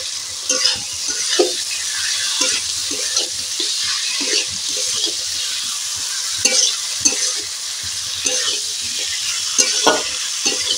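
Bitter gourd curry with potato and fried bori lentil dumplings sizzles steadily in a pan. A spatula stirs and scrapes it in irregular strokes, close and alone, with no talk.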